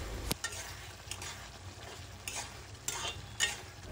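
Spice masala stirred in a pan for a fish roe curry, with low sizzling under a few sharp scrapes and clacks of a spoon against the pan, fairly close and moderately loud, and no talking.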